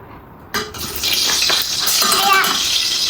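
Oil and ghee poured into a cooking pot for biryani, a soft hiss and sizzle after a clink of the container, steady and close, with quiet voices in the background.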